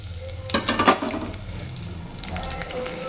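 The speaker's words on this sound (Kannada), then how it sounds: "ಸೊ ಈರುಳ್ಳಿ ಚೆನ್ನಾಗಿ ಸ್ವಲ್ಪ ಫ್ರೈ ಆಗಲಿ" Onions frying in a pan with chillies, a close, low crackling sizzle broken by a short burst of stirring scrapes and clatter early on, then settling back to a steady fry.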